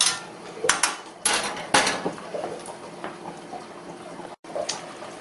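Scallops being stirred in a pan while they sauté, giving a few loud metallic clanks and scrapes of utensil against pan over a low background.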